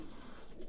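Breeding pigeons in a loft give a low, soft cooing that runs steadily for under a second, close by and faint.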